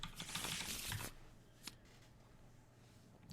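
Marvel Champions encounter cards being shuffled, a quick papery riffle for about a second, then a faint single card snap and a quiet pause, with no talking.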